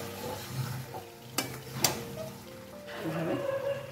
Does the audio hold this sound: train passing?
no